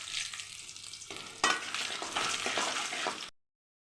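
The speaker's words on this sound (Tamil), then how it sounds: "கொஞ்சம் ப்ரௌன் கலராக வச்சு வதக்கிக்கலாம். காஞ்ச மிளகா போட்டுக்கலாம்," Dried red chillies sautéing in hot oil in a pan while making fenugreek greens kulambu give a steady close sizzle and frying crackle, which swells with a brief clatter as they are stirred.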